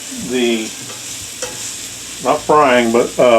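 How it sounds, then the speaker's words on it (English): Diced, floured beef searing in a hot frying pan, a constant hissing sizzle with a few squeaky, wavering tones rising over it. "actually searing the outside of the meat, just enough to brown it on the outside"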